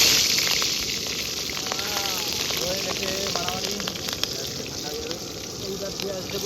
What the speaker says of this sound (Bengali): প্রথমে তেল দিয়ে নিচ্ছি, গরম মশলা, তার সঙ্গে যাবে তোমার কাঁচা লঙ্কাগুলো